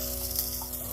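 Sprouted moong bean pancake sizzling loudly and steadily in a pan just after being flipped, a close, dense frying hiss with no voices.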